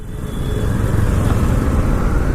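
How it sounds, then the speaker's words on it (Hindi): A motorcycle engine strains at low speed, around 10 to 15, in too high a gear, giving a loud, close, rough, lugging drone that holds steady after a quick rise. "आपका इंजन एक अजीब तरह से साउंड करेगा"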